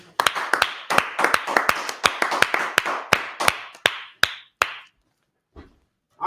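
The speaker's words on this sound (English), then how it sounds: "Clap it up for the class." An audience at a history class claps in sharp, distinct slaps that start fast and thin out, slowing to a few isolated claps before fading to near silence.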